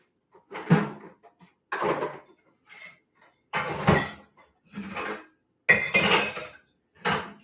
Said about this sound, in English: Now I'm going to stir this up.